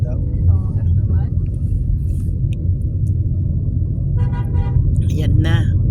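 Busy road traffic during a fiesta in the City of San Fernando, Pampanga, with a deep continuous engine rumble, several short horn toots scattered through, and voices talking over it.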